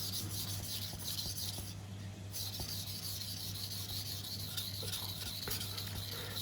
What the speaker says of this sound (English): keep your knife on the stone and keep your hand on the knife